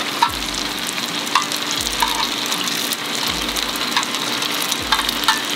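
Lumpia frying in bear fat give a steady, dense sizzle throughout, with a few soft scrapes and taps as they are turned in the pan.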